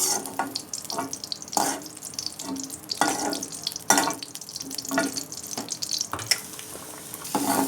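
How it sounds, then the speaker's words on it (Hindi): Carrots frying in a pan for a vegetable tikka dish, an uneven close sizzle broken by repeated bursts of stirring and scraping, with a watery hiss in places. "इसके बाद मैं गाजर फ्राई करूँगी, फिर उसके बाद तमाम सब्ज़ियाँ।"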